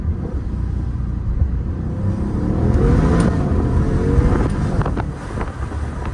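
A Maserati Quattroporte Trofeo engine builds and holds a loud, steady roar as the car accelerates, heard from inside with heavy wind and road rumble and no talking.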